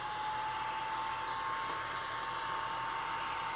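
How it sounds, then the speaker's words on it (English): A hair dryer blows steadily on wet fabric during a crafting session, a constant airy whir with a thin high tone, faint and unchanging, with no one talking. "bear with me for 1 second while I dry my wet fabric really, really quick."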